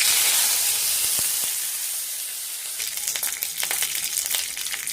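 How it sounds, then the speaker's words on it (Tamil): Curry leaves dropped into hot oil with mustard seeds, starting as a loud steamy hiss that settles into close, crackly frying sizzle with rapid pops, no talking. "கடுகு போட்டினதும் கருவேப்பிலை போடணும்."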